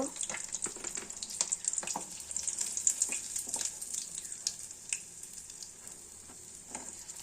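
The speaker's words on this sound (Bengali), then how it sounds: "মাছগুলো দেখো ফ্রাই হচ্ছে" Amodi fish frying in a pan with steady, crackling oil sizzle, dotted with sharp pops and spits throughout, close and fairly loud, with no talking.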